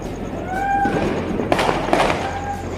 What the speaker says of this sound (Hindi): और ये आतिशबाजी और पटाखों की ढेर सारी आवाज़।